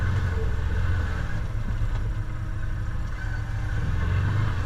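Off-road vehicle engine rumbling steadily as it crawls over logs on a muddy trail, a loud, continuous low drone close by with slight shifts in revving.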